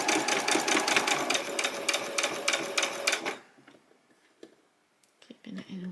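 Sewing machine stitching Velcro onto a dress, a loud, close rapid mechanical whir of stitches for about three seconds, then stopping, followed by faint handling noises.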